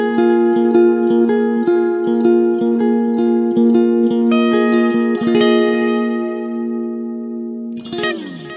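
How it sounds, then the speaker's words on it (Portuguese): Clean guitar chords played through a Hotone Ampero 2 Stomp multi-effects unit with a huge cloud-style reverb, steady shimmering sustain with chorus-like width, a few strummed attacks and a final strum near the end that rings out into the wash. "Esse clean, ele tem um reverbão, o reverb cloud, né? Que é o clássico reverb gigante da Ampere, que é muito bonito."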